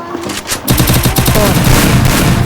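Rapid automatic gunfire from a UMP submachine gun in the Free Fire mobile game, loud sustained bursts after a brief lull, with a voice faintly underneath.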